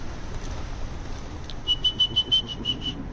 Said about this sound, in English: The pigeons have just shown up.